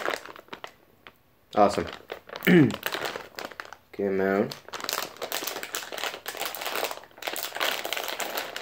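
A snack package, a sour watermelon and blueberry candy, being torn open by hand, with loud crinkling and rustling of the plastic wrapper in bursts between a person's speech.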